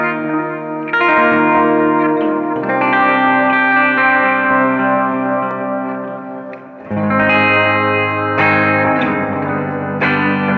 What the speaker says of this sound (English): there's definitely reverb on the delay